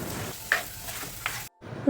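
Soaked turmeric and chili powder sautéing in a pan for Kerala fish curry, a close steady sizzle with a couple of stirring scrapes, cut off briefly before resuming.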